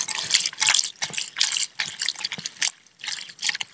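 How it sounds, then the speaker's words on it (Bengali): Small mourola fish are rinsed by hand in a bowl of water, with splashy sloshing and dripping in quick repeated bursts, close and fairly loud, with no voices. "এখন ভালো করে ধুয়ে নেব"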